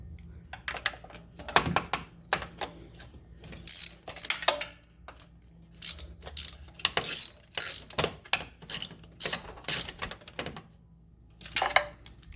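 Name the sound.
tightening bolts on Polaris Slingshot starter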